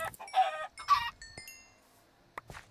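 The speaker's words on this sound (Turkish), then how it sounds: "Tavuklarım." Several short clucks and squawks from Minecraft chickens, with cartoonish electronic tones and a couple of small clicks, fairly quiet and without speech.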